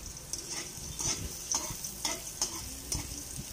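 Garlic frying in hot cooking oil in a pan, a steady sizzle broken by regular scraping strokes of a utensil stirring it, close and moderately loud.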